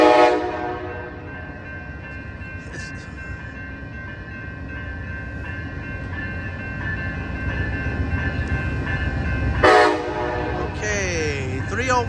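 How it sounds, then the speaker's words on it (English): Amtrak Coast Starlight No. 14 with heritage unit 301 idles at Oakland Jack London station, a steady diesel rumble with a bright tonal hum, a sharp short burst near the end and a faint radio voice. "This train will hold here in the middle of Jackson for a second."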